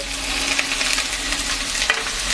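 Slices of bitter gourd and potato sizzle and hiss in hot oil in a pan, a steady broad frying crackle with light stirring scrapes, close up and without talk.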